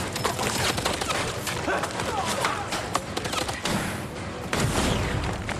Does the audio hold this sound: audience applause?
no